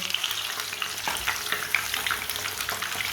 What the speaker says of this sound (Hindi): चिकन को उल्टा लेंगे। 2 चम्मच लिए हैं मैंने इसे उल्टाने के लिए, देख के उल्टाना इसे।